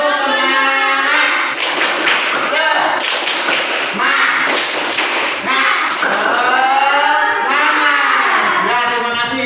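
A class of students clapping a rhythmic classroom spirit clap together in patterned bursts, loud and close, with children's voices chanting along over the claps.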